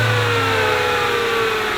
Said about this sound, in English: Then you run the engine to circulate it.